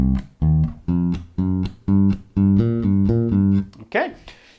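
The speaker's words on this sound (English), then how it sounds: "then we just come up through that blues scale on off beats" A bass guitar plays C blues scale notes, two on C and then climbing through the scale on off-beats, as a series of distinct, evenly spaced plucked tones, close and clear, ending with a brief voice.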